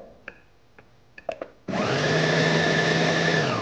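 Electric food chopper roughly chopping curly chili, garlic and a piece of ginger: a few light clicks and taps, then the motor kicks in with a loud, steady whirring drone that runs on without talk.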